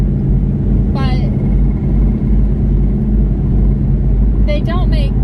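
A Ford Mustang with failing rear axles drives along, giving a constant loud low rumble of road and drivetrain noise. Two short bursts of a voice or squeal rise over it.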